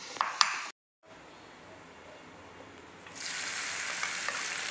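Ginger frying in a pan for a kidney bean pickle gives a steady hissing sizzle that cuts out briefly, then returns and grows louder and brighter partway through.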